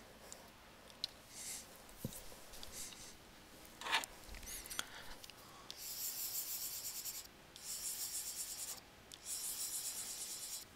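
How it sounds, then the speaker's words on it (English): Pencil drawing on a paper worksheet, quiet scratchy strokes and rubbing in short irregular bursts, some longer continuous scribbles, close and faint with no talking. "I'm going to draw this picture on my worksheet"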